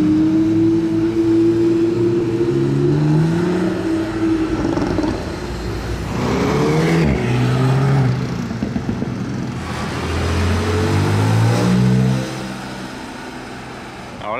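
Red Ferrari sports cars in Monaco, both red with black stripes, pass close by with loud engine roar and rising revs, one after another, over a busy street background.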